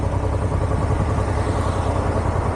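A Honda motorcycle rides over gravel, its engine thrumming steadily and loudly up close with a rough, even pulse and no talk.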